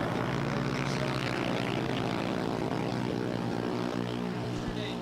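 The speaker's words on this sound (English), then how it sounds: "You hear the engine go" A drag racing car's engine roars loud and close at Empire Dragway during a 20k shootout, a dense, continuous rumble with rich harmonic layers that holds steady for the full length.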